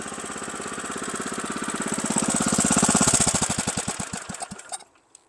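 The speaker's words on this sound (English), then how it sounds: "Gotta love the sound of an old Kohler K 161 or 181." Old Kohler K161 or K181 single-cylinder engine on a lawn machine running with a steady thumping beat, swelling louder mid-clip, then slowing to a halt as it shuts off, alone with no talk.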